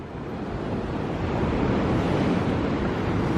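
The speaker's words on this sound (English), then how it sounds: "I wanted to show you the ocean." Ocean surf rolls onto the beach at Kure Beach fishing pier, a continuous broad washing roar mixed with wind buffeting the microphone, steady and swelling slightly louder, with no voices.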